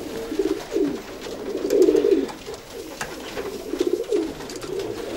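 Racing pigeons coo close by in a low, throaty rhythm, with repeated soft rolling calls that rise and fall over about five seconds and no voices.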